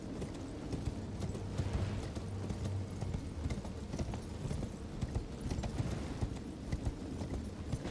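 Rhythmic clip-clop of horse hooves at a steady gallop over a dense background rumble, with no talking, in the video game Elden Ring.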